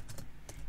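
A few quick key taps on an English-layout computer keyboard, faint and close, three distinct clicks with a short pause before the last.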